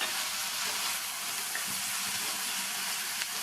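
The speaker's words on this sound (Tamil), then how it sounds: "இது கூட கொஞ்சமாக கறிவேப்பிலை, ஒரு மீடியம் சைஸ் தக்காளி கட் பண்ணதையும் சேர்த்து வதக்கிக்கலாம்" Garlic, onion, curry leaves and chopped tomato sauté in a pan with an even, unbroken sizzle, close and moderately loud, with faint clinks now and then.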